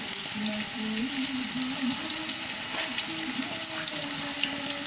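Curry leaves frying with turmeric in a spiced mixture for Bombay potatoes and daal, a steady dense sizzle with stirring scrapes throughout, close and continuous, no talking.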